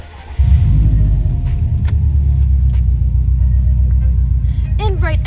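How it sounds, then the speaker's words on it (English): A 2019 Subaru WRX STI with manual transmission cranks and fires up, then settles into a loud, steady, rumbling idle heard close up, with a few clicks and faint chimes on top. "I'll now just get in and turn it on."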